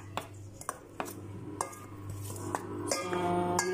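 Chocolate being stirred into cornflakes in a bowl, with a spoon scraping and clinking against the dish in scattered taps over a faint low hum, fairly quiet and close.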